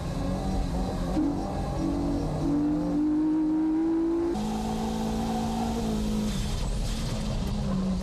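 A Nissan S15 race car at Fuji accelerates hard out of a corner, its engine note climbing steadily in pitch through several gear pulls with a shift break midway, loud and close with tire noise underneath.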